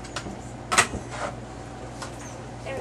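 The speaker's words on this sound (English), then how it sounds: "Stop playing with the door." A door is opened and closed repeatedly, giving scattered knocks and creaks with one sharper bang, moderately close over a low room hum.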